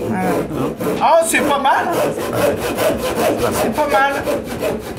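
An ordinary hand saw cuts through wood in quick, regular back-and-forth strokes, loud and close, while people talk over the sawing.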